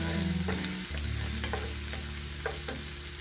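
Tomato sauce roux with seasonings sizzles hard in a hot pan while being stirred constantly, a loud, dense frying hiss with repeated scraping strokes and a low steady hum beneath.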